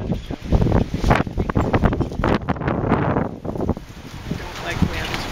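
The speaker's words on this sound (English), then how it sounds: "I don't like wind." Gusty outdoor wind buffets the microphone in irregular bursts, loud and close, rising and easing in waves, with a person talking in between.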